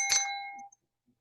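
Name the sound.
notification bell ding sound effect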